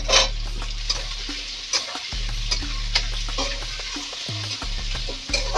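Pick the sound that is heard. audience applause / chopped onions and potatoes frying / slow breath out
chopped onions and potatoes frying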